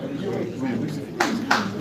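Audience applause at a press conference, a short burst of clapping heard under continuous speech.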